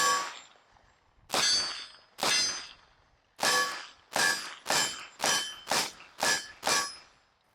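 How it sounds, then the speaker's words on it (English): Pistol shots from a Smith & Wesson CSX compact aluminum-frame handgun with Minuteman ammunition ring out at an outdoor range: two spaced shots, then a quicker string of about eight, each a sharp crack with a brief ringing tail. "First shots with the new CSX from Smith & Wesson with some Minuteman munition."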